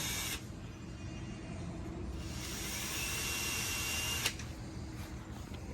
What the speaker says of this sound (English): Drill it with an 1/8" drill bit for a pilot hole.